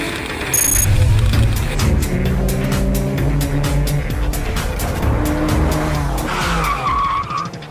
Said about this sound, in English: It's a dual clutch automatic that shifts for us.